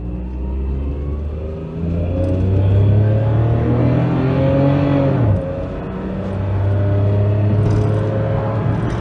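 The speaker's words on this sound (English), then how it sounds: "Right, so we do a full 0 to 60, albeit with a limitation I might have to merge into traffic." An old, free used car with known issues accelerates hard from a standstill toward 60 mph, its engine note climbing in loud rising sweeps with a clear gear change midway, heard from inside.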